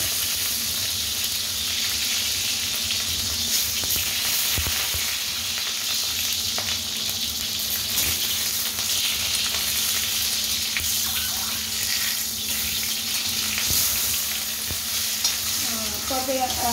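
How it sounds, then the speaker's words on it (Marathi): Steady, loud sizzling of food frying in hot oil, with occasional stirring scrapes throughout and no talking. "हे पहा, टोमॅटो टाकलाय भाजायला। हे पहा, याला पण तेल टाकायचं थोडंसं भाजायला।"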